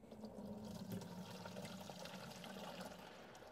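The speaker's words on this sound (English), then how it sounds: "decant what we collected out there through this bucket sieve, which is a 400 micron sieve, into this other bucket" Stream sample water pours steadily from a bucket through a 400 micron bucket sieve into a second bucket, a close, continuous splashing flow with no talk.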